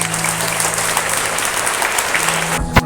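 An audience at a school class assembly gives a sustained round of applause for the lucky draw prize winners, a continuous wash of many hands clapping that ends abruptly with a low hum underneath.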